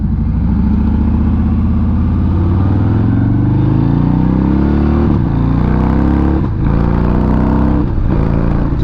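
A 2020 Harley-Davidson Fat Bob motorcycle being ridden, its engine droning loud and steady with a rising pitch under acceleration and brief dips between gears, close and continuous.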